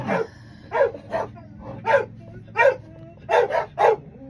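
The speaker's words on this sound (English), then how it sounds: "the dogs will go off" Neighbour's dogs bark in sharp bursts, about eight loud, close barks in an uneven rhythm over a low background hum.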